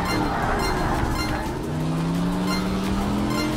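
Race car engine in the video game Project CARS 3 drones steadily and loudly, its pitch sliding down then climbing again as the car shifts and accelerates, with no talk over it.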